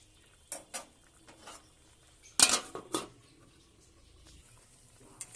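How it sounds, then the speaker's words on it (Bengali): Eggplant pieces and parshe fish go into a pot of simmering potato curry, with a few scattered clinks and knocks of pot and utensil and one louder clatter in the middle, against a quiet background. "এবারে দিয়ে দেবো বেগুন আর মাছটা, দিয়ে আবার একটু ফুটিয়ে নেব"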